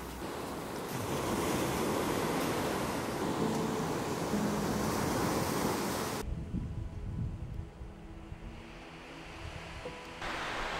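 Loud ocean surf and gusting wind roar at sea off Kaikoura, New Zealand, buffeting the microphone for several seconds before dropping to a quieter wash of water and breeze.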